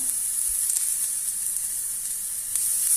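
A hot pan gives off a steady, fairly quiet hiss of sizzling as garlic and ginger fry, with faint stirring scrapes and no talking.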